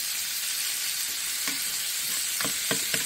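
Food sizzles and fries steadily in an antique Griswold cast iron skillet, a constant close hiss broken near the end by a few sharp scraping clicks of stirring, with no voices.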